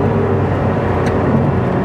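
A Lotus Emira sports car with a manual gearbox runs with a loud, steady engine drone heard from close by. The engine stays fairly even throughout, with no clear rise or fall in revs.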